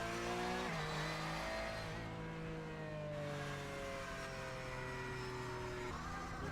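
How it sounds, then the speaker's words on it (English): Porsche 911 race cars of the 991 generation in a Carrera Cup race at Phillip Island Circuit, engines droning steadily with falling pitch as cars pass, with a faint tire squeal. "this generation of 911 that you see the race cars doing is the 991, the current generation"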